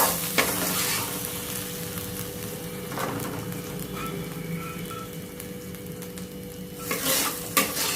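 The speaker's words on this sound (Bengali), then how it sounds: "তো এখন একটু মশলাটা কষিয়ে নিই" Ground spice paste with turmeric sautés in oil, a continuous sizzle broken by spatula scrapes and stirring knocks against the pan, louder bursts near the start and end.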